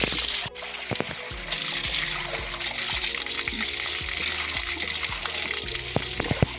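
Spring water trickles steadily from a spout at a forest spring, a continuous close splashing flow with a few brief clicks and knocks over it.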